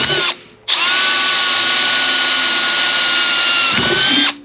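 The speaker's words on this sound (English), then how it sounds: "as you can hear, I'm drilling" A loud power drill whirs steadily for several seconds after a short start-stop, then winds down, close up with no talking.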